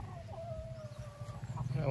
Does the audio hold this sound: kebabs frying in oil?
no